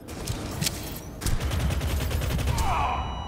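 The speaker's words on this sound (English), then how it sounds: "Auto shotgun." An auto shotgun firing in the online shooter Starsiege Deadzone, a rapid string of heavy blasts close and loud, growing denser partway through, with faint game ambience behind it.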